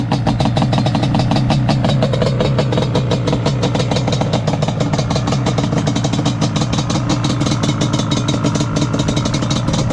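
A Yamaha Banshee two-stroke motorcycle engine idles steadily and close by, its rapid, even pulsing exhaust note running without pause and with no talking.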